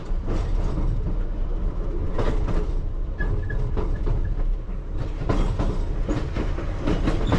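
London Underground Piccadilly Line train creeping eastbound at about 14-15 mph toward Oakwood depot: continuous close rumble with rhythmic clickety-clack of wheels over rail joints and a faint brief squeal, no talking.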